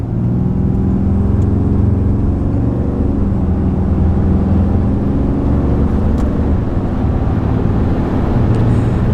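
A lifted 2019 RAM 2500 Big Horn Cummins diesel truck launching from a roll at about 10 mph, heard from inside as a loud, steady low engine drone and road rumble that builds slightly.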